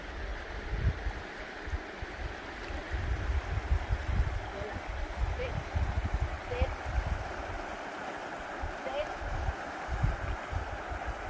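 A stream flows steadily at Apple Hill with a continuous low rushing and gurgling, while people talk nearby.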